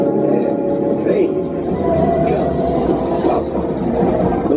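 A train roars past on the Millennium Falcon Smuggler's Run ride simulation, a loud, continuous rolling rumble with rattling mechanical noise, while voices talk over it.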